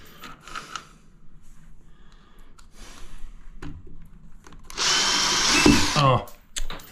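A power tool trims down a backing board for a shower niche lining, giving a loud close whine for about a second and a half after scattered handling knocks and a few soft voice sounds.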